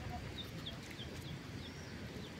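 Faint, high peeps from a tiny duckling in a park, several short chirps repeating at uneven intervals over a constant outdoor background hiss.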